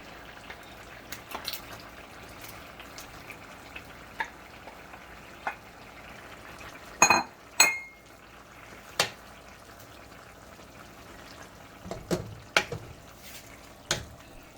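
Mushrooms cooking in a pot for a vegan braised mushroom oxtail dish, a low steady bubbling simmer broken by scattered clicks and a few sharp clattering knocks of utensils against the pot.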